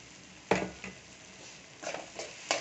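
Egg biryani masala with garam masala being sautéed in a pan: a low frying crackle under scattered scraping stirs, several sharp utensil strokes clustered near the start and end, fairly quiet overall.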